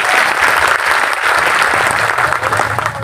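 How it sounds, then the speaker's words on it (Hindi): A large crowd at a BJP political rally in India breaks into loud, sustained clapping, a dense wash of applause that stays strong across the whole moment. "जोरदार ताली बजा के बताओ।"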